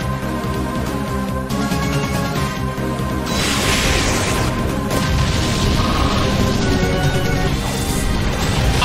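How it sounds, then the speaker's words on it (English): A Pokémon unleashes Explosion in Pokémon Battle Revolution, a loud sustained blast and crashing burst layered over steady game music, with a second surge of noise midway. "Annihilated by explosion."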